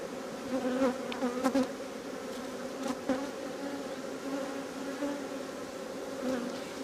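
A dense, steady hum of honey bees buzzing around an opened hive in the UK over capped worker brood, close and continuous, with brief louder passes as bees fly near.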